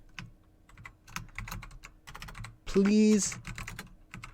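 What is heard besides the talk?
typing on a computer keyboard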